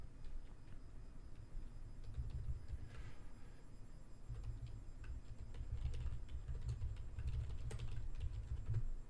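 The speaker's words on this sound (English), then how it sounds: "typing, that's just me making alerts in my chat room community that I offer." Quick, irregular taps on a computer keyboard continue throughout, close and fairly soft, over a low steady background rumble.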